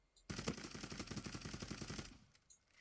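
Zula video game gunfire: a rapid, evenly spaced automatic burst of about two seconds, loud and close, ending abruptly, with no talk over it.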